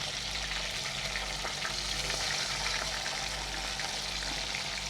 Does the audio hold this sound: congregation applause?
no